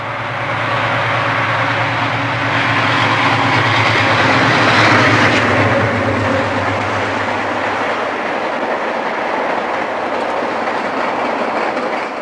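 Penn Central empty coal train, returning from the Dow Chemical power plant at Midland, Michigan toward Toledo, passes at Howell with a loud continuous rumble and steady rolling wheel clatter that swells midway and then eases, with no talk.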